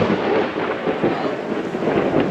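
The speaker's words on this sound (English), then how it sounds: "Oh, rain's coming down." Steady heavy rain pouring down outdoors at a safari lodge in a game reserve, a dense continuous roar close by with no breaks, and no clear voices.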